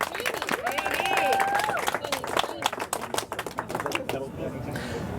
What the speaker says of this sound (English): a round of applause for Haney